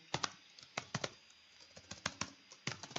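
Someone types a note on a computer keyboard, producing clusters of quick, close key clicks separated by short pauses.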